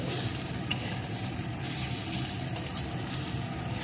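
Close, continuous sizzling of cauliflower frying in a pan with ground roasted cumin, coriander and dried red chilli, the hissing oil steady with occasional light stirring taps.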